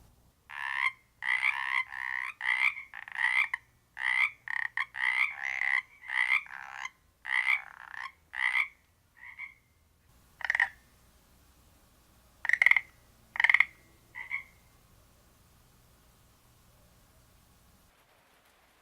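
Male frogs croak in a steady run of about a dozen evenly spaced calls, then pause and give a few more scattered croaks over a faint background hiss, fairly close and alone.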